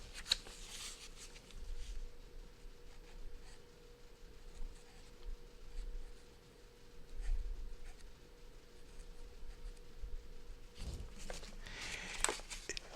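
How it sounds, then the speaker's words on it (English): A pen or marker writes a name on a small surface, giving faint, soft scratchy strokes with short pauses over a low room hum, and no one speaks. "Let me write Leslie on here"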